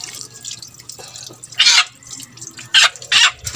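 Water is poured over chicks to bathe them, coming in three short splashing gushes between quieter drips and trickles, close by.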